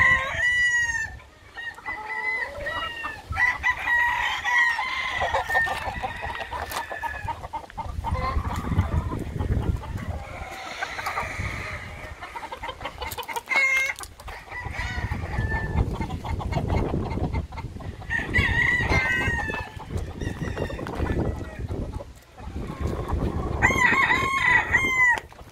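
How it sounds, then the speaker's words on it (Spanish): Chicks, chickens and fighting roosters at a rural veterinary shop, with steady clucking and repeated loud crowing, near and busy, continuing through the whole stretch with little pause. "Voy a presentar estos pollitos marcados 9 y 10 aquí en Veterinaria El Chonchito"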